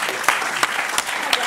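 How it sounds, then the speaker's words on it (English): Brief applause from a panel discussion audience on hydrogeology and water and sanitation, a short burst of scattered claps with a few distinct louder slaps at a steady pace. "give a round of applause"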